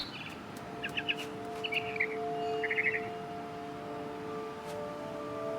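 A mama bird chirping in the video game What Remains of Edith Finch, several quick bursts of bright tweets over a steady ambient drone, then fading out, no talking.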